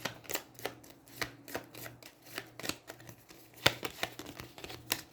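Cards for the Aeons End 2nd Edition board game being shuffled, a quick close series of soft riffling snaps and flicks, fairly quiet with no talking.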